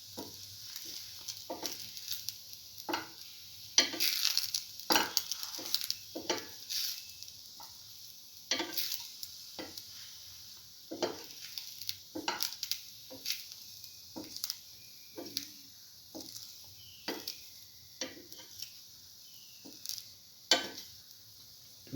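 Bread pieces frying in a pan for chili tomato French toast, a steady close sizzle broken by repeated short stirring and turning scrapes at an uneven rhythm, with no talk.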